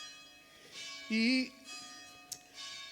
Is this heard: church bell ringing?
yes